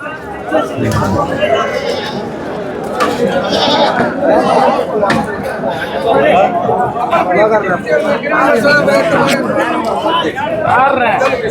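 Sheep lambs bleating at a busy goat market in Ranipet, short close calls rising over constant crowd chatter and nearby talking.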